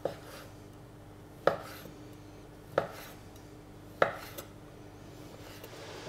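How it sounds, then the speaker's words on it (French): Four sharp knife chops land on a cutting board at roughly even intervals as a Morteau sausage is cut lengthwise, close and distinct against a quiet kitchen background. "la morteau, je vais la couper dans le sens de la longueur, comme ça"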